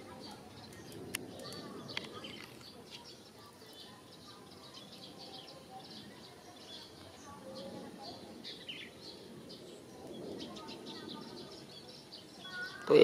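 Small birds chirp outdoors in brief, faint, scattered calls over a quiet background hiss, with occasional soft voices nearby.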